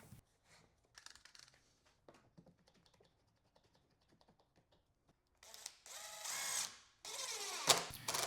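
Drywall screws are driven through wooden fascia into the framework of a model railroad diorama module, with two sustained bursts of close, whirring driver noise after a stretch of quiet handling clicks.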